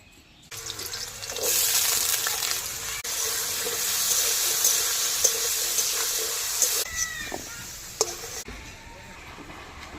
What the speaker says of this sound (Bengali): সরিষার তেল কড়াইতে দিয়ে দিয়েছি ওই টুকরো করা আলুগুলি লবণ হলুদ দিয়ে ভেজে দিই